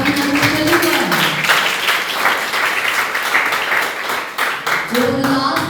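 Audience applause for a team presentation on Henri Fayol's management principles, steady broadband clapping throughout with a voice speaking over the opening second and again near the end.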